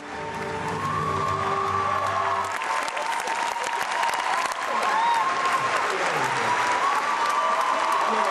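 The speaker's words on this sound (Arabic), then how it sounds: "وسط تصفيق حار." Warm, sustained applause from a large audience at the Berlin film festival, dense and steady throughout. A brief tonal voice is heard at the start before the clapping fills the room.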